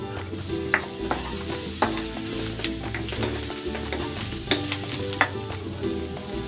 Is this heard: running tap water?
no